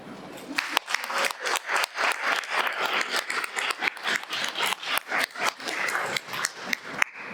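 Audience applause at a student storytelling event, a sustained round of many hands clapping with a fast, irregular rhythm, fairly close and lasting several seconds.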